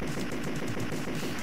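Dense, continuous rapid-fire gunfire from the arcade video game Total Carnage, a loud rattling stream of shots with no pauses.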